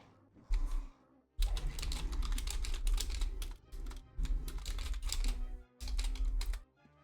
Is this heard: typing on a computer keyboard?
yes